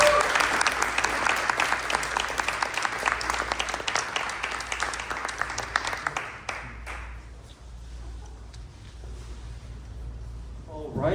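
Audience applause for presenters at a Los Angeles city charter reform commission meeting, steady dense clapping for about six seconds that thins and tapers off with faint room murmur afterward.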